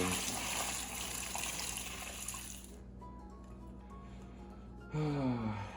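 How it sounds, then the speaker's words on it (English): Water mixed with Dawn dish soap is poured for cleaning rusty tools, a running splash that stops, leaving quiet handling sounds, then a brief squeaky burst. "I'm just using a little bit of water with Dawn dish soap"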